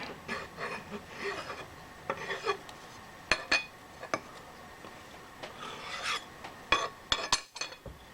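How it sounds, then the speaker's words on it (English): A metal edge is deburred by hand, giving a series of short scraping and rasping strokes with a few sharp metallic ticks, close and fairly quiet, without talk. "Let's deburr that real quick like."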